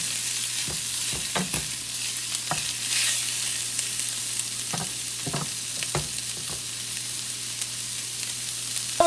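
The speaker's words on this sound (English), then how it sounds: "The sausage is cooking up so nicely." Sausages fry and brown in a pan for a breakfast potato hash, a steady hiss of sizzling fat underneath a low hum, broken by sharp scrapes and taps of a utensil turning them now and then.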